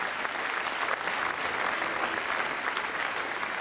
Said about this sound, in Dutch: Dames en heren, graag een daverend applaus voor Jaapie Valkhoff, Gerard Cox, André van der Lauw,